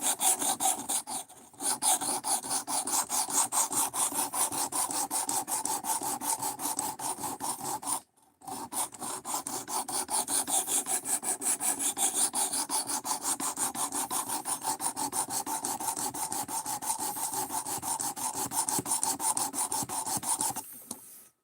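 A hand file rasps along a blade bevel in steady, rapid back-and-forth strokes, loud and close, with one brief pause partway through and no talking.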